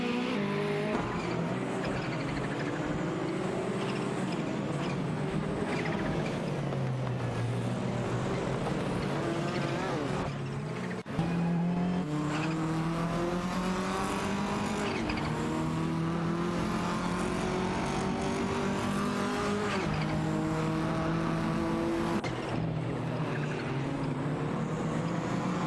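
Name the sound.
race cars, BMW M3 and Mercedes-Benz 190 Evo, in racing video game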